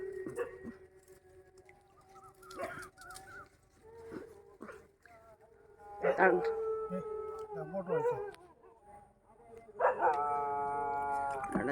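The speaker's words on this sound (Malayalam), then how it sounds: "അപ്പുറത്തെ വീട്ടിലെ പട്ടി ഉരയ്ക്കുന്നു സൗണ്ട്" A neighbouring house's dog barks and howls in a few drawn-out bursts, fairly close, with some voices in the background.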